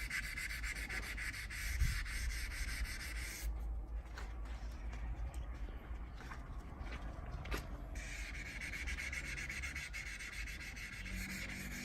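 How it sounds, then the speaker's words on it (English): A hand rubs sandpaper over oxidized paint on a Nissan Patrol fender in steady, close back-and-forth scratchy strokes, with a brief change in texture midway and no talking. "So I'm going to sand it down all the way to an area which I think that it's not affected by the oxidation."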